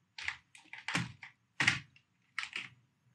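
Computer keyboard typing in a code editor: short bursts of close keystrokes, several clustered taps separated by brief pauses, crisp and alone in a quiet room.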